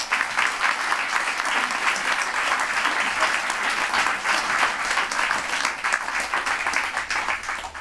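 Steady, dense audience applause filling the room at a lively, even level throughout, with no voices standing out above it.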